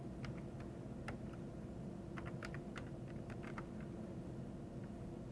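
Keys clack on a computer keyboard as a DOS copy command is entered, soft irregular taps in small bursts over a steady low hum, close and fairly quiet.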